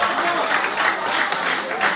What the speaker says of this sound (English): Let's give a round of applause for us.